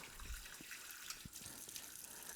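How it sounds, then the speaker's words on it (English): Water from a tap rinses the cap of a Sana 727 Supreme juicer, a continuous faint gushing splash with small spatters throughout, no talking. "First thing is take off the cap here, rinse it out."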